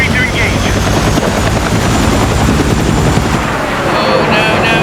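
A military helicopter in the game Battlefield 6 whirs in a steady, dense drone, mixed with rattling machine-gun fire and distant explosions of a multiplayer battle, loud and constant throughout.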